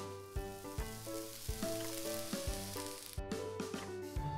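Bread sizzles in a frying pan in the I Am Bread video game, a steady frying hiss under a looping music track with rhythmic low thumps, fairly loud and continuous with no talk.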